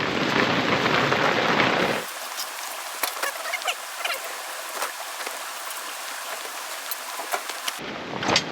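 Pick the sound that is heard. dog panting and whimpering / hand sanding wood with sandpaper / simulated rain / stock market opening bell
simulated rain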